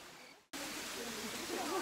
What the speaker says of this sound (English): We're finally at the waterfalls